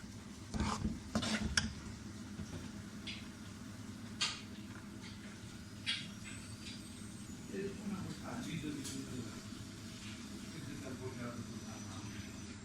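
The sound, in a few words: stirring mixed vegetable halwa with khoya in a pan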